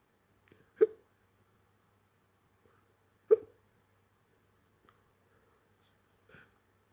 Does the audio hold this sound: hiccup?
yes